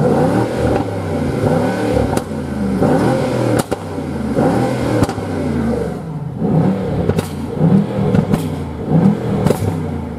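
Mercedes-AMG S 63 4MATIC+ engine revving in Sport Plus mode, loud and close, with repeated rising and falling surges of engine roar and a few sharp cracks between revs.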